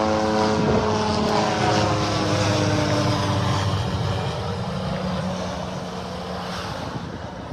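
A helicopter's engine and rotor drone passes overhead above a beach in North Naples, Florida, loud at first and slowly fading as it moves away.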